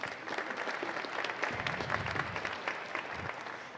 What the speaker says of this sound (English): I think we need to give a hand of applause to that department